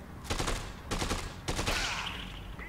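Gunfire in the video game Dead Rising 2 rings out in three loud bursts of rapid shots separated by short pauses, with the last burst trailing off into a ringing tail.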